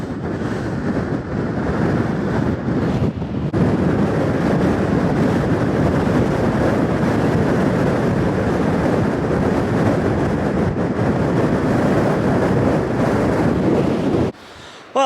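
Strong wind roars continuously across the microphone on the coast at St. Just, Cornwall, a broad rushing sound, loud and unbroken, dropping away briefly at the very end.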